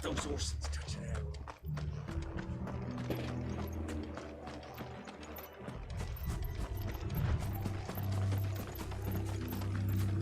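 Steady clip-clopping of horses' hooves during a castle siege in Final Fantasy XVI, a continuous rhythmic clatter under battle noise, music and talk.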